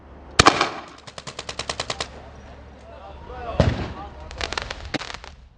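Rapid bursts of firework crackles pop in quick rhythmic strings, with a louder bang and further volleys, while shouting voices rise in the background during a street protest clash with police in Turkey.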